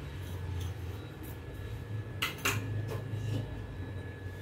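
A spoon stirs semiya payasam in a pot after sugar and cardamom powder go in, making quiet scattered clinks and scrapes against the metal over a low steady background hum, with a few sharper knocks midway.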